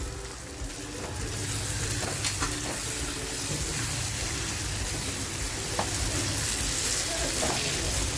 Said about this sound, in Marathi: टॅमॅटोची प्युरी करून घेतली होती म्हणजे बारीक करून घेतला होता टॅमॅटो टाकते